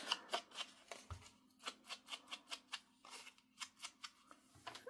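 Paper pages being cut by hand with scissors for a craft project, a steady run of crisp, close snips repeating at a brisk, even rhythm with no talking.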